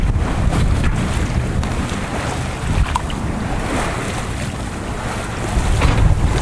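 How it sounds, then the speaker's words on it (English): Wind roars steadily across the microphone on a sailboat out on the bay, with water rushing and splashing against the hull and occasional gusts swelling louder. "And it seems like the wind is building up."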